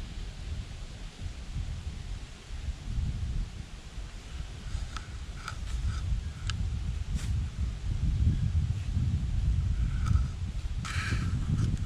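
Steady wind rushes through trees and leaves outdoors in deer woods, a broad continuous roar that swells and eases, with a few faint higher rustles and ticks.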